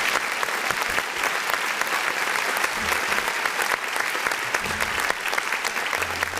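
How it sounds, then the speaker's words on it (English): Button-triggered applause sound effect plays as a dense, steady burst of crowd clapping that fills the whole stretch at even loudness. "Let me go ahead and hit this button that allows us to clap a little bit."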